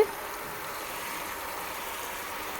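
Water poured into a pot for a lotus plant on a rooftop terrace garden, a steady continuous trickling wash that stays even and moderately loud throughout, with no talking.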